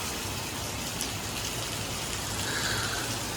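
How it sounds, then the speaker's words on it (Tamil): Heavy rain falls on a stop between Vizag and Cuttack, a soft, continuous, even hiss heard from indoors. "சரியான மழை"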